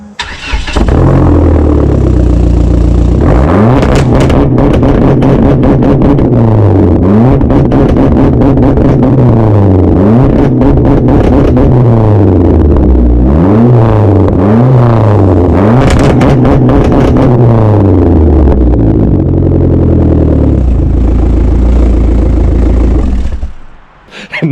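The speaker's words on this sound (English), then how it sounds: "Let me do a cold start on this." A car engine cold-starts, then is revved repeatedly in rising and falling bursts, loud and close, before settling; the car has a cheap aftermarket exhaust said to shoot flames.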